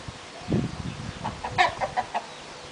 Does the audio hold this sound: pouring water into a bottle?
no